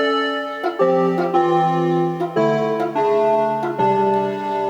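Clean guitar strums sus2 chords in the style of Allan Holdsworth, about six sustained, ringing chord changes in a slow steady sequence, played close and loud with no talking.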